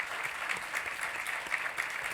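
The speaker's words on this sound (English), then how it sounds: "So big round of applause" An audience applauding steadily, a dense patter of clapping hands that carries on throughout at moderate volume, with no voices standing out.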